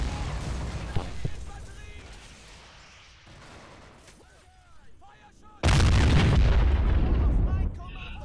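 A tank main gun fires in the Men of War battle on a bridge, a single heavy boom with a long rumbling tail that swells suddenly and loudly above the ongoing battlefield noise and faint distant gunfire.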